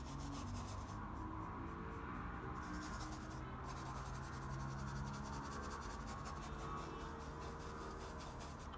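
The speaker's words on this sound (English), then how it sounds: "I'm just gonna use my brush just to scrub some paints." A paintbrush scrubbing paint on a painting surface: a faint, steady brushy rubbing with quick repeated strokes, quiet and close, with no talk.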